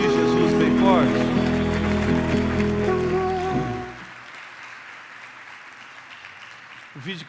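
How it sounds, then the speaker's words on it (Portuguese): A church congregation applauds loudly and steadily for about four seconds, mixed with sustained music, before the clapping breaks off and the room drops to near silence. "Você pode aplaudir Jesus bem forte?"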